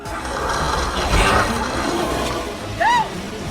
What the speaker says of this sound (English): this strange sound of an airplane toilet flushing?